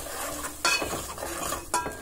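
Chili coconut paste frying in a pan, a soft sizzle under scraping and clinking as a utensil stirs against the metal, with two sharper knocks, close by.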